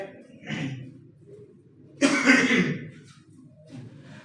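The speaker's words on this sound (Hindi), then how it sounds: "आज थोड़ा सा खांसी लगी हुई है." Two coughs from a single nearby person, a short one first and then a louder, harsher one, separated by quiet pauses with faint sounds between.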